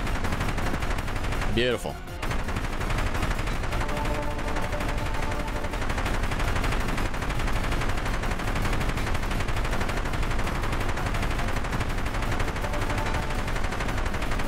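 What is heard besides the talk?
periodic jet fighter airstrike in a helicopter video game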